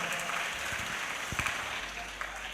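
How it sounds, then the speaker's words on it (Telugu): An audience at a Hindu dharma conclave claps during a speech, a steady broad wash of applause throughout, moderately loud and without clear individual claps. "ఇప్పుడు ఇది చప్పట్లు ఎందుకు కొట్టారండి?"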